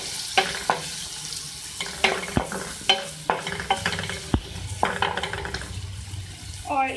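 Two medium chopped onions frying in oil with turmeric in a pan, stirred briskly: a steady crackling sizzle under repeated sharp clinks and scrapes of a utensil, close and fairly loud, with a faint voice near the end.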